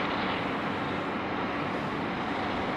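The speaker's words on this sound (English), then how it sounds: "Very lean takeoff." Airplane taking off at Sydney Airport, a continuous broad roar of jet engines that holds steady and fairly loud throughout, with no voices.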